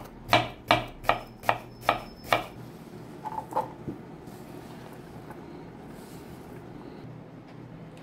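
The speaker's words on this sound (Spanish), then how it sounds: "Vamos a empezar con la cebolla bien finita" Six sharp, evenly spaced knife chops on a board as onion is cut finely for ceviche, followed by a few softer taps and quiet kitchen ambience.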